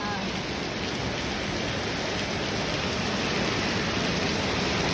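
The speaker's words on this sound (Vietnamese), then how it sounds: "Mưa to." Heavy rain pours in a steady, dense hiss with no breaks, loud and close, as a downpour drums on surfaces outdoors.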